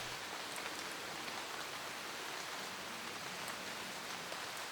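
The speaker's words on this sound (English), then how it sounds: "So there's this rain sound that is that runs throughout quite a bit of it." Soft, steady rain patter used as a textural layer in a music track, faint and even throughout, a continuous hiss of raindrops with no voices.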